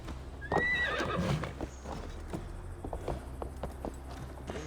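Horse hooves clip-clopping in Assassin's Creed Valhalla, a steady close walking gait with a whinny near the start, no talk over it.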